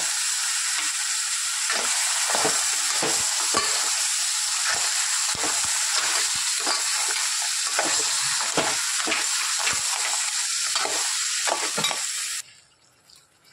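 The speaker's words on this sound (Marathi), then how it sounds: "ह्यामध्ये टाकणार आहोत ही चिंबोरी जी आपण सगळी साफ केलेली आहे ती।" Cleaned crabs stirred into frying masala for an Agri-style crab curry sizzle loudly and continuously, with repeated spoon scrapes and knocks in an irregular rhythm, before the sound drops away near the end.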